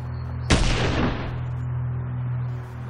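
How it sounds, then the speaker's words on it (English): A single loud 12-gauge tactical shotgun blast hits sharply, and its booming report rings out and decays over about half a second before a low steady hum remains. "It's a 12-gauge tactical shotgun."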